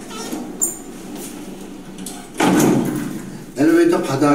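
An elevator door being shut during an emergency passenger-rescue training exercise, producing a couple of sliding rumbles and a firm closing thud, with people talking around it.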